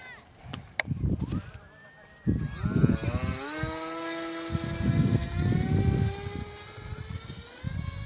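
A Hobbyzone Aeroscout S 1.1m RC airplane takes off on its maiden flight, its small electric motor rising into a high, steady whine that holds and drifts away, while someone talks nearby.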